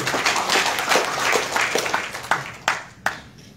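Applause from a crowd at a gathering with West Timor kings, a spread of clapping that thins into a few sharp, separate claps near the end.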